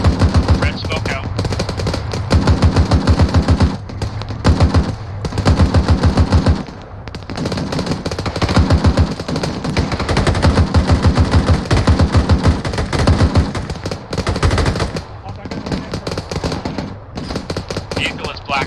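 Bursts of automatic and single-shot gunfire in a military video game, rapid rattling volleys separated by short pauses, loud and close, with a voice occasionally talking in between.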